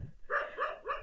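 A dog barks at newcomers arriving at a village temple, giving three quick, moderately close barks in a row at an even rhythm.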